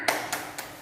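A school class does the tepuk semangat clapping chant, producing three quick, evenly spaced claps, close and crisp, over a brief moment.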